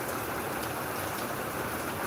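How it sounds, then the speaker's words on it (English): Dense, steady rainfall of the first rain of the year in Gboko after a spell of intense heat, a constant close hiss of drops on surfaces with no gaps and no voices. "Oh God, how I love rain."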